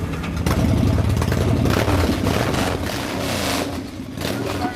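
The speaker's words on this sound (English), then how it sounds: "can I start it? well, certainly give it a start." A motorcycle engine cranks and catches, then runs with a rough, loud rumbling idle and some uneven revving, close by.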